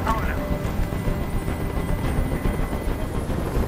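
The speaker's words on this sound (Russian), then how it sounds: "Прикажи им, чтобы вертолет убрался!" A helicopter hovers overhead in the video game Detroit: Become Human, a continuous broadband rotor rumble sitting under tense dialogue throughout.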